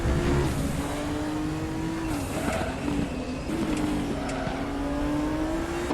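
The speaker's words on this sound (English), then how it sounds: "that big old V8 DTM, that big old Audi Quattro" An Audi Quattro V8 DTM race car drives past with a loud, sustained engine drone whose pitch rises and dips through gear changes, heard fairly close and without any talk.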